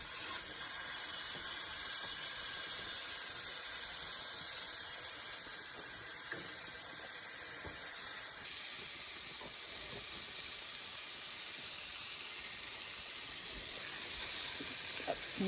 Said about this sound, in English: I'm searing the sides. Try to lock in the flavor.